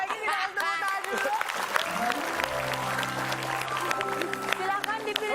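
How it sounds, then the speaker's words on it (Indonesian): Applause during a lively group quiz game, clapping mixed with excited voices, laughter and a tonal musical or vocal line running through, moderately loud throughout. "Kita tepuk tangan dulu."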